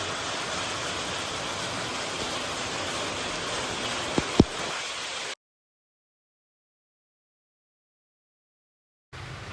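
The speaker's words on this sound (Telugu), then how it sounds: "వర్షం అయితే చాలా పడుతుంది" Heavy rain pours outdoors near an open-air wood-fired cooking spot, a dense steady hiss for several seconds with a couple of sharp knocks, then a long silent gap before the downpour resumes.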